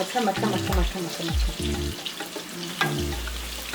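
Onions browning in a pan for Ghana-style spaghetti, a low sizzle under louder tonal clatter and scraping from stirring, close and busy throughout.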